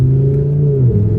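A twin turbo Audi R8 engine revs hard through third gear, a loud, steady close-up drone that climbs in pitch and then drops sharply at the shift.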